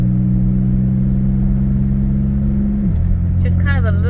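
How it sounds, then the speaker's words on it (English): 2003 Pontiac Montana minivan engine humming steadily inside the cabin, its tone dropping sharply as the transmission makes a hard gear shift near the end, with a voice talking over the last moments. "There is a hard shift, and I'm going to show you just between gears."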